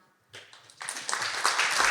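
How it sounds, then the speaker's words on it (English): An audience at a tech talk on data and sport claps for the panelists, starting as a few scattered claps that swell quickly into full, steady applause. "A big round of applause."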